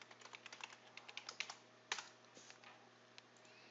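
Fingers type on a computer keyboard in a quick, uneven run of light key clicks, with one firmer keystroke partway through, faint and near with no talk.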